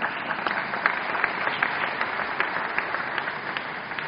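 An audience claps steadily, a dense patter of many hands at moderate distance, continuing without a break and without voices.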